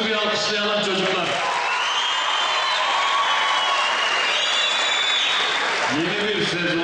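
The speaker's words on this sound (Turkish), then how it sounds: "Önce başkanımızı bir alkışlayalım çocuklar." Children and guests applaud the mayor at a municipal youth sports festival in Karaköprü, Şanlıurfa, with dense, sustained clapping throughout and voices calling out over it.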